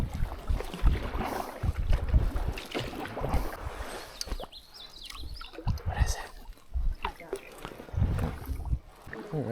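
Canoe paddling on a lake in Algonquin Park under cloudy skies, with wind buffeting the microphone and water sloshing against the hull, while a person talks over it.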